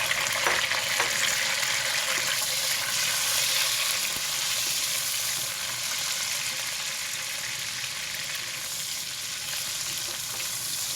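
Tomatoes sizzle and fry steadily in a hot pan for pork sinigang, a loud continuous hiss with occasional stirring scrapes and no talking.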